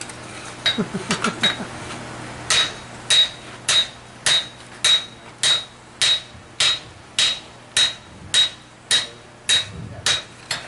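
A hammer strikes metal on a low anvil to texture its surface, giving a steady series of about eighteen sharp, ringing metallic blows at close range in an even rhythm after a few quicker taps at the start.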